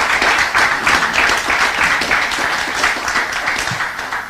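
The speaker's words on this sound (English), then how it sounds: "Yes, you can give that a round of applause." Audience at an official territorial address gives a full round of applause, a dense, even wash of many hands clapping steadily throughout.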